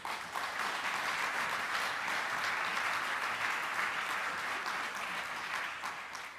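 A conference audience at the ICCC3 climate conference gives a round of applause: dense, even clapping from a large crowd, holding steady for several seconds before easing slightly at the close, with no talking.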